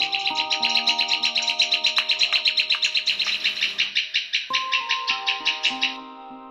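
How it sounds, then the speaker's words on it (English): Bird chicks chirping rapidly and steadily in a bright, loud, close series of high peeps, with a few sustained tonal calls and other birdsong layered beneath, continuing for several seconds before tapering off. "The female bird circled the chicks in air."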